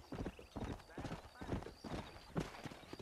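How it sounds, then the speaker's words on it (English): A horse in Red Dead Redemption clip-clops along in a steady rhythmic run of hoofbeats with soft whinnying mixed in, the hooves clear and moderately loud throughout. "Where's that horse?"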